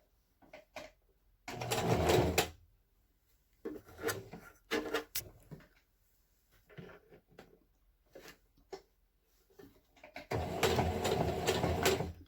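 A home sewing machine stitches a pleated cloth face mask in several loud whirring bursts of rapid needle chatter, separated by quiet pauses filled with soft handling and fabric rustles.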